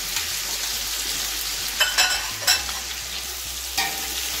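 Onions and sweet pepper fry in a pot for coconut rice, a steady close sizzle broken by a few sharp scraping knocks as a spoon stirs them.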